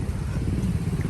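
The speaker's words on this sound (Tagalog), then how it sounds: "oops, motor." Motorcycle engine heard outdoors on a mountain road at dinnertime, a steady low rumbling drone at moderate distance, fairly faint and continuous without clear rise or fall.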